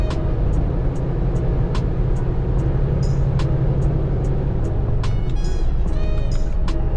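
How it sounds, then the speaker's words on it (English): A truck engine held at full throttle against its rev limiter, a loud, steady low roar close up with faint regular clicks and chirps running over it throughout, no voices. "All right, full throttle. Better hang on. Bouncing it off the rev limiter."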